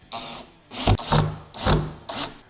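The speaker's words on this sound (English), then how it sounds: "secure the saddlebag tether into the lid using 2 sheet metal screws" Two sheet metal screws are driven into a saddlebag lid to secure its tether, giving repeated short grinding, rubbing bursts in a close, uneven rhythm of about four strokes with brief gaps.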